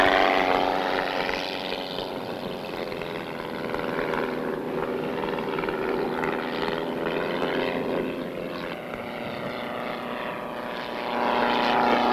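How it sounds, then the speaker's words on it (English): A German military propeller airplane drones steadily overhead throughout, its engine roar loud and continuous with a slight swell near the end, with no voices heard. "German plane! Everybody out!"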